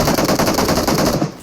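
Rapid sniper rifle fire in the mobile shooter BGMI, a loud, dense string of gunshots running nearly continuously before easing off at the end, with no talking.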